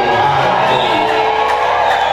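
Church congregation at a Pentecostal worship service erupting in sustained cheering, whoops and high ululation, dense and loud throughout with no pauses.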